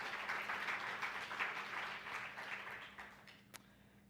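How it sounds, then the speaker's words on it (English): A forum audience gives another round of applause for everyone who worked on the event: moderate, fairly distant clapping from a small crowd that fades gradually toward the end, with one sharp knock near the close. "let's give another round of applause for everyone who worked on that"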